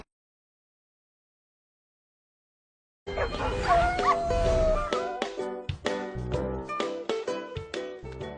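An aspin dog named Tagpi, a security patrol helper in a village, gives a burst of close, sharp barks and yips mixed with whimpers after a silent start, the calls coming in quick irregular bursts.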